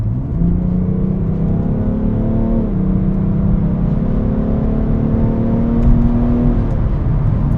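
A BMW 335d xDrive diesel engine drones steadily and loudly from inside the car, its pitch climbing in two smooth rises as it accelerates and shifts.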